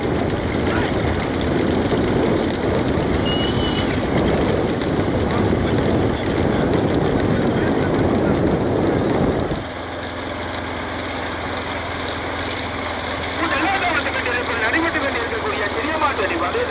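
Bulls pulling carts in a small-bull cart race at Paramanpacheri, hooves clattering in a fast running rhythm under a loud commentator and crowd noise, then the clatter drops away into a quieter engine rumble.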